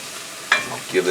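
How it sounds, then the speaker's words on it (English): Carrot sticks frying in a pan are stirred, with a soft steady sizzle and a sharp scrape of the utensil, followed by a couple of quieter stirring sounds. "Give this a little stir."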